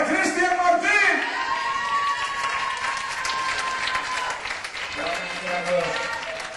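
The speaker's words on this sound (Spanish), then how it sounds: "Fuerte aplauso para Cristian Martín." A theatre audience in Alcúdia applauds Cristian Martín. The clapping is steady and sustained, mixed with music and voices, and it eases slightly before swelling again near the end.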